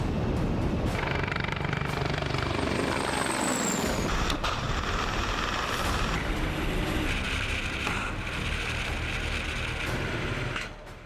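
A Russian Mi-14 helicopter flies past in a dense, continuous rotor and engine roar, loud and unbroken for the whole stretch, with a brief rising whine partway through, then easing slightly at the end.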